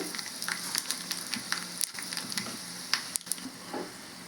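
Tempering spices crackling and popping in hot oil, a soft steady sizzle with scattered sharp pops and a stirring scrape, close and moderately quiet.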